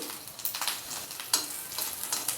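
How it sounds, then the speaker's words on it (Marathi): Garlic frying in hot oil in a kadhai for a peanut chutney, a soft continuous close sizzle with light crackling pops and stirring, no talking. "तेल आहे थोडं अजून कढईमध्ये लसूण टाकूया"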